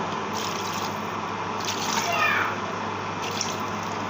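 Steady rushing water pours for a few seconds into a cooking pot of vegetables, a continuous splashing hiss at moderate volume.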